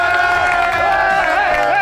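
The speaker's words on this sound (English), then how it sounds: "Give him an applause." A lively crowd at a Rubik's Cube challenge event cheers loudly, with overlapping shouting voices and whoops forming a dense, continuous roar close by.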